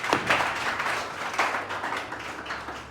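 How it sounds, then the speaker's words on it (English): An audience applauds a participant at a group discussion event, with steady, moderately loud clapping throughout and a few sharper bursts standing out. "Please clap for him."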